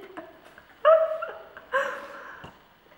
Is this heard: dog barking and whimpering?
yes